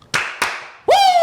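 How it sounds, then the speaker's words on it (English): Two quick hand claps, close and crisp, followed straight away by a loud sustained tone. "2 claps."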